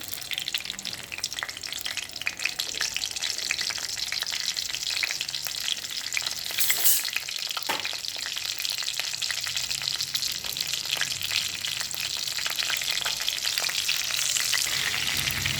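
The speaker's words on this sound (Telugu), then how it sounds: "Oil heat అవ్వనివ్వాలి. సో ముందుగా ఇందులో పచ్చిమిర్చి వేసుకుందాం." Green chillies frying in hot oil in a pan for drumstick curry, a steady loud sizzle and crackle with occasional stirring scrapes, continuous and close with no talking.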